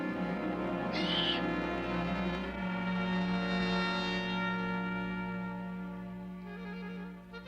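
Deep, hollow hoots of a great horned owl or screech owl carry through a night forest, with a sustained low tone and a brief higher screechy burst near the start, fairly loud and unaccompanied by talk.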